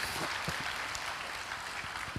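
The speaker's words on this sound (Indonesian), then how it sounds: "Berikan tepuk tangan kita untuk Tuhan kita." Church congregation clapping together in a sustained, dense wash of applause, fairly loud and steady throughout with no talk over it.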